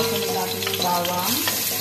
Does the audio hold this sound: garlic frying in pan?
yes